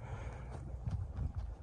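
A large, stout horse moves with soft, uneven hoof thuds and shuffles, close by and fairly quiet, with no voices heard.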